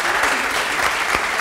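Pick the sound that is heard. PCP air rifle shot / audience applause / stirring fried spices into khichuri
audience applause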